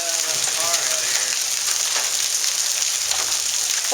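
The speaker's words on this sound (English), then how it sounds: "Check out all the hail." Hail pelting down hard during a violent thunderstorm in Dallas, Texas, a dense, steady hiss of icy impacts filling the whole stretch, with a voice speaking briefly near the start.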